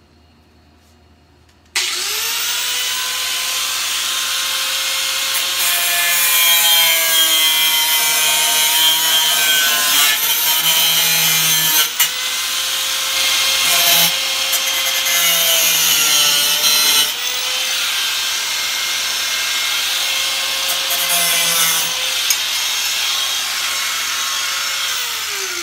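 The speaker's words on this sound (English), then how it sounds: "Okay, I got my cutoff wheel all ready. I'm just going to come in here and cut this handle off." A cutoff wheel slices through the handle of a Weber Performer kettle grill, a loud continuous grinding whine with shifting pitch that starts abruptly and runs steadily without a break.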